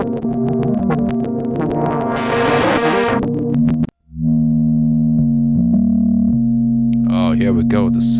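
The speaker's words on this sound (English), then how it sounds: "You can hear a lot of that kind of oscillating between the waves and all the distortion." Synthesized sine waves run through a filter and distortion, giving loud, buzzy tones that waver and oscillate. A sweeping filtered passage cuts out briefly before lower sustained tones return, with a voice speaking over the end.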